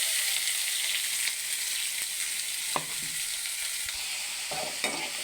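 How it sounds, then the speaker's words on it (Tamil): Green chillies and onions tossed into a hot pan for a flattened-rice upma, giving a steady close sizzle with occasional stirring scrapes and clinks throughout. "நிறைஞ்ச இந்த பச்சை மிளகாவையும் போட்டுக்குவோம் இந்த வெங்காயத்தையும் அதிலே போட்டுக்குவோம்"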